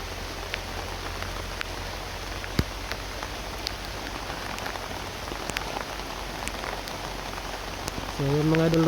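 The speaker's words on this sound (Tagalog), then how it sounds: "Lakas talaga ng ulan mga idol." Heavy rain pouring down outdoors, a dense continuous patter of drops striking surfaces, loud and steady, with a brief voice near the end.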